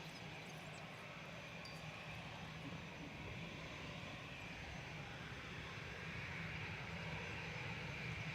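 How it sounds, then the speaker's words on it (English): Airbus A320 Classic jet at Manchester Airport, lined up on runway 23L for departure, gives a steady, continuous engine roar with broadband rumble that holds at an even loudness throughout, with no talk over it. "Departing now to Palm de Mallorca, this is OE IZL, just lining up. On 2-3 left, A320 Classic with flight 7270."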